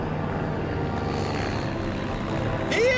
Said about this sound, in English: as the plane banks away